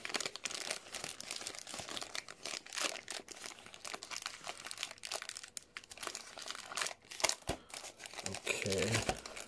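Someone cuts open an Amazon cardboard box, with dense crinkling, tearing and scraping of cardboard and packaging in close, irregular bursts while a person talks.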